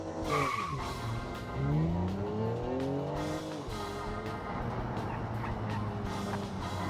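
Tires squeal loudly in BeamNG.drive as a car understeers through corners on the Top Gear test track, a long, wavering howl rising and falling in pitch over engine noise.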